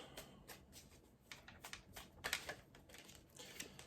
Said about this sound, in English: Going to just shuffle the cards a little bit here